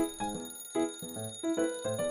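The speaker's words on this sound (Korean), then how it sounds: "시끄러운 알람 소리에 일단 일어나기는 했지만" An electronic alarm clock rings in short repeating melodic beeps, fairly loud and close, with no voices.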